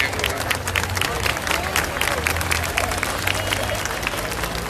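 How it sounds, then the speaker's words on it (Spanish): A crowd applauds the Santísima Virgen del Carmen de la Legua at a night religious festival in October, loud sustained clapping with crowd noise and voices over a low rumble. "Fuertes los aplausos a la Santísima Virgen del Carmen de la"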